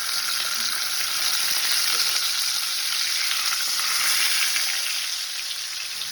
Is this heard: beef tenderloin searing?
yes